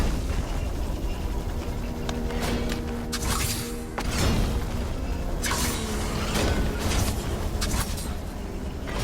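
Stone pillars smashing in the video game Prince of Persia: The Lost Crown, a string of sharp crashing impacts and crumbling debris bursts over a rumbling game soundscape with a faint steady tone.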